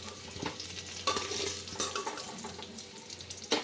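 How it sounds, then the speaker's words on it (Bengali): Spiced potatoes fry in a pan, a soft continuous sizzle broken by scraping stirs and clinks of a utensil, close and fairly quiet. "আলুটাকে নানা রকমের মশলা দিয়ে দিয়েছি, দেখো ভাজা হয়ে গেছে"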